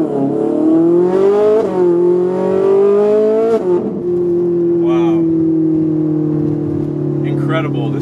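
A Ferrari 458's flat-plane-crank V8 revs hard and high, the loud wailing note climbing and dropping through several sweeps before settling into a sustained high-pitched drone.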